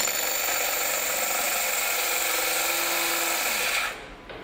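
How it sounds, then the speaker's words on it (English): A cordless drill fitted with a diamond core bit whines steadily as it cuts through tile, a loud continuous high-pitched grind that cuts off abruptly near the end. "you oscillate the drill till you've completed the full circumference of the actual core bit"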